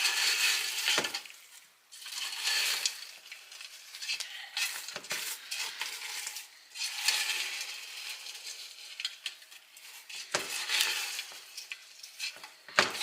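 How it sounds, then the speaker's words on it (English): Peanut butter Chex mix stirred in a bowl that is too small, with dry crunchy rustling and scraping in repeated bursts, close and fairly quiet. "If you can kind of work down one side and push it all up here, it generally mixes up pretty good."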